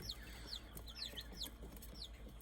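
Farmyard chickens, an autosomal red rooster and a white hen, give faint, short clucks and chirps, a few scattered calls over a low steady hum, with no one talking.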